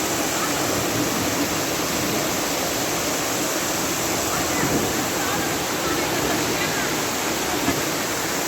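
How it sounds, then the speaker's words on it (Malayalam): An indoor waterfall inside Bangalore airport pours with a constant, even rushing hiss of falling water that fills the space, steady and fairly loud throughout. "ഒരു എയർപോർട്ടിനകത്ത് വെള്ളച്ചാട്ടം ഉണ്ടെന്ന് അറിയുമോ?"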